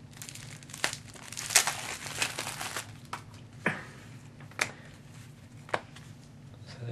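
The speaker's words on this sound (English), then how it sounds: "let's open up a stack of cards" Plastic wrapping on a stack of Magic: The Gathering cards crinkles and tears close up, with irregular sharp crackles and rustles coming in short bursts over several seconds.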